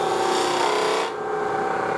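A turning tool cuts a wooden icicle ornament on a lathe, giving a loud, continuous rasping scrape that drops in brightness halfway as the cut lightens, with the motor's hum underneath.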